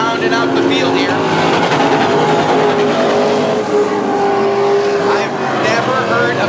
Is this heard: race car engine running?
yes